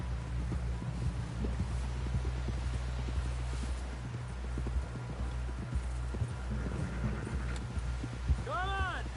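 Horse hooves in a video game clip-clopping in a steady trotting rhythm over a low engine-like hum, with a short vocal sound near the end.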